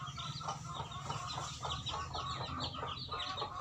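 Newly hatched chicks cheep continuously in a dense, rapid chorus of high peeps, close and lively, with no talking over them.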